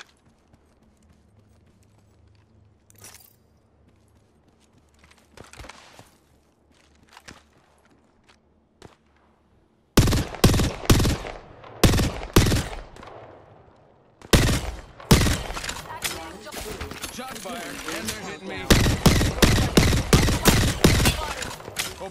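Gunfire in a squad-based shooter video game rattles out in rapid, loud bursts of shots after a quiet opening stretch, with a second heavy volley starting midway and continuing to the end.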